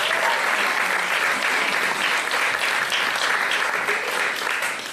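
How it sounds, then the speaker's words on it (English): Sustained applause from a theatre audience for the performers at a live new-musical showcase in New York, a dense, steady wash of many clapping hands that holds loud and even throughout. "Let's give them one more round of applause."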